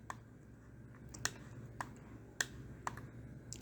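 Computer mouse clicking while digitizing in QGIS: a handful of faint, crisp single clicks spaced unevenly across a quiet room background.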